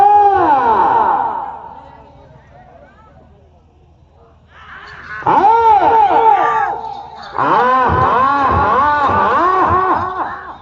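Close, loud voices shout and holler in wavering cries at an Ongole bull race, coming in bursts: a strong outburst, a quieter lull, then two more sustained rounds of yelling.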